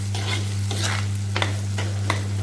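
Ginger-garlic paste fries in hot oil with a close, steady sizzle while a spoon stirs and scrapes the pan in short, repeated strokes. A low, constant electrical hum sits underneath.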